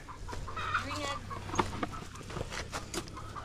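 Chickens clucking nearby in short, scattered calls, with soft rustling and a few brief knocks in the background.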